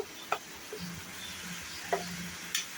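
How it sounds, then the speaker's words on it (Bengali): Spices fry in a pan for paneer butter masala with a faint, steady sizzle, broken by a few sharp clinks of a spoon stirring against the pan. "মশলাটা একটু ভাজা হয়ে গেলে"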